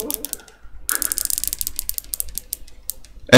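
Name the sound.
replica watch rotating bezel clicking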